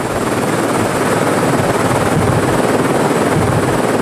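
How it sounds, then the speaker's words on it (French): A loud, steady helicopter roar with thudding rotor wash as it flies near a cliff on Lord Howe Island, close and continuous throughout, with no other sounds. "Ce jour-là, l'hélicoptère s'attaquait à la falaise."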